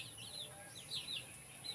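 Chickens at a backyard game farm, a few faint, brief clucks and chirps over quiet background noise.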